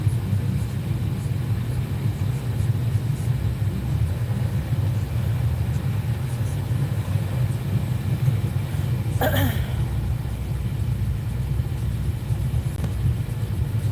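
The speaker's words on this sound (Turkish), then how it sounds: "Akşamın trafiği." Evening road traffic with cars passing, a steady low rumble of engines and tyres throughout, moderately loud and continuous, with one brief sharp noise near the end and no talk.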